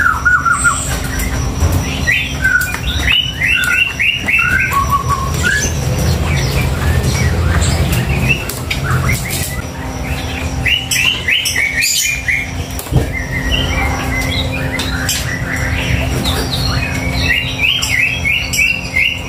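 A small cinereous tit, the gelatik batu, chirps in quick repeated bright tweets and short trills over a steady low background hum, the calls close and continuous throughout.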